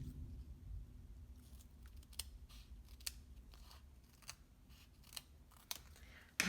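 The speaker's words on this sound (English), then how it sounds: "cut a couple of strips because" Scissors snip strips of adhesive foam dimensionals for a floral panel card, a few faint, sharp cuts spaced out over a quiet low rumble of room noise.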